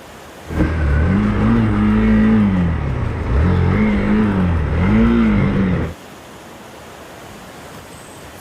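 A Hero Xpulse motorcycle fitted with a rally kit revs at a river crossing, its engine rising and falling in several loud, close surges before cutting off abruptly, leaving quiet background.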